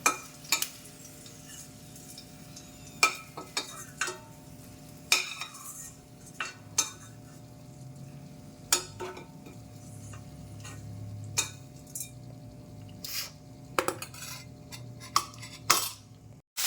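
Green chillies fry in hot oil in a pan for Andhra-style chutney, giving a low steady sizzle broken by sharp scattered pops and crackles and occasional spoon clinks against the pan.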